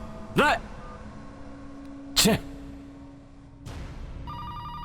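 A telephone rings twice with sharp bursts separated by a pause, over a steady hum and background drama sound, loud and close.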